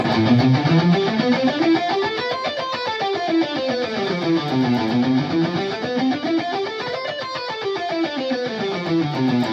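Fast, evenly alternate-picked guitar notes climb and descend a scale several times in a steady metronomic rhythm, bright and distorted.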